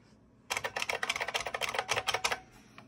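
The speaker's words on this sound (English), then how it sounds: "It's one of those classic M5 IBM keyboards. Really feels awesome. The click clacking sound" A Unicomp M5 IBM-style mechanical keyboard with buckling-spring keys clicks and clacks in a quick, steady burst of typing for about two seconds, close and crisp, with no talk.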